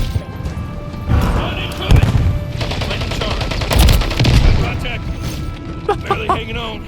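Gunfire and C4 explosions in Modern Warfare III ring out as loud bursts of shots and booming blasts in irregular clusters, while a player talks excitedly over the action.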